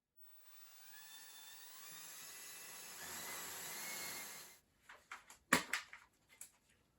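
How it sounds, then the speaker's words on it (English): Power drill boring a shallow hole into a 2x2 piece of wood, deep enough to recess a bolt head: a steady high whine for about four seconds, then stopping, followed by a few clicks and knocks of handling. "on this side, you're just going to drill that about the depth of the head of the bolt."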